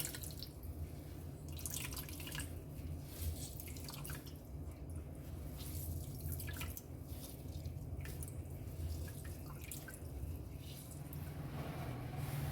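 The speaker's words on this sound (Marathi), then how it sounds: "बघा किती पाणी निघतं याचं" Water drips and trickles in quick, irregular bursts as grated radish is squeezed by hand, fairly quiet with a faint low hum beneath.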